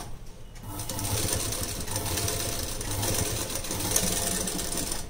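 A sewing machine runs steadily while stitching a blouse, a close, continuous mechanical whir that holds for the whole stretch without pauses or talk.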